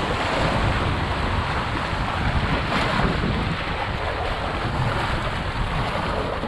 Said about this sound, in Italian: ogni tanto gli arriva un'onda che batte da questi scogli e ci mangia le gambe